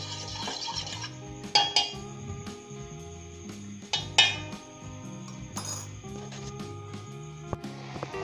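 A spoon scraping and clinking against a metal cooking pot while stirring cocoa-powder chocolate syrup, with irregular sharp clinks and taps over a steady hum and background music.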